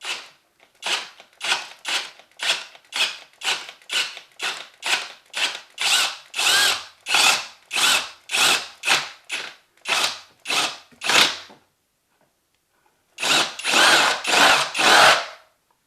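A power drill with a spade bit bores through wood during a door strike plate repair, running in a fast series of short, even, close bursts, then a pause and a few longer runs.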